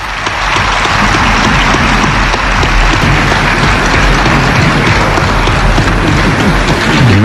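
A national assembly breaks into loud, dense applause as rules are adopted by acclamation, a continuous roar of many hands clapping that stays strong from start to finish.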